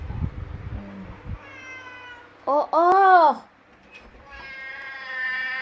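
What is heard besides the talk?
cat meowing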